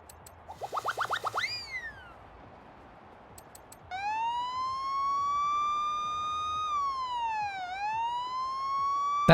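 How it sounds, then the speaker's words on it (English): A police siren horn skin in a video game first gives a quick series of rising chirps, then settles into a loud, steady wail that dips and swoops before cutting off, with no voices heard. "That would go really well with some of the police siren skins that I've got."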